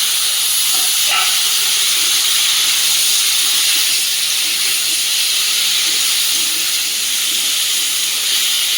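Taro pieces drop into hot oil and set off a loud, close, continuous hissing sizzle that holds steady throughout, with a brief crackle near the start and no talk.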